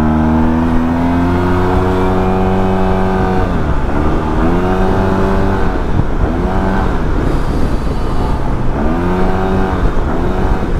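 A 2022 Yamaha TMAX scooter accelerating, loud engine tones rising and falling through several pulls over heavy wind rush.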